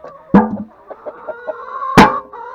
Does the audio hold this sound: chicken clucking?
yes